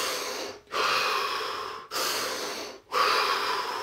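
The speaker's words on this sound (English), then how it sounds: "3 more expansive breaths." Three deep, expansive breaths drawn in and let out slowly in a quiet room, each long airy exhale separated by a brief silent pause.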